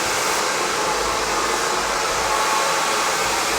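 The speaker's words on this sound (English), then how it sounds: "changing the angle of the blow dryer underneath there, so that the underneath can get a chance to dry" A handheld blow dryer runs steadily at close range while drying hair, a loud continuous airy whoosh with no break and no voices.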